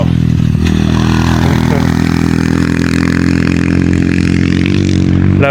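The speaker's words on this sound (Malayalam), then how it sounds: "കൊച്ചു പയ്യനെന്തോ ആണെന്നോ കേട്ടോ അവിടെ പ്രാക്ടീസ് ചെയ്തുകൊണ്ട് ഇങ്ങനെ മോട്ടോർ ബൈക്കിൽ പോയത്" A young boy practicing on a motorcycle keeps its engine loud and close, revving continuously with a rough clattering rumble that never lets up.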